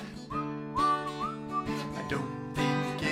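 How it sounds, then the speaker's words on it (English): A person whistles a short, melodic tune at a cheerful children's festival sing-along, with bright sliding notes over steady background music and clear pauses between phrases. "Well, I'll whistle as I clean, till I'm clean as a whistle."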